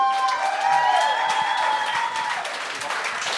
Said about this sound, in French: On peut vraiment l'applaudir.